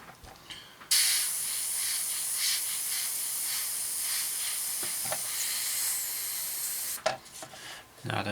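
An airbrush driven by a compressor sprays green paint onto an Eduard 1/48 SE5a scale model, giving a steady, close hiss that runs for about six seconds before cutting off.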